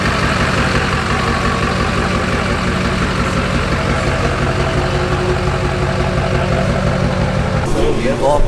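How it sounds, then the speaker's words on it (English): Diesel prerunner truck idling at a truck meet, a steady low rumbling clatter that holds even throughout, close by, with people talking over it and a brief rustle near the end. "Diesel pre-runner."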